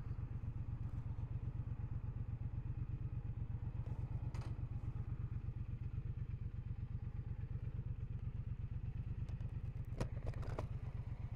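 Triumph Speedmaster 1200 low-rider motorcycle being ridden, its engine giving a steady, rapid low pulsing throb throughout with some faint clatter and wind noise, no talking.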